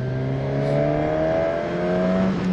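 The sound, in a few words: Suzuki Katana motorcycle engine and exhaust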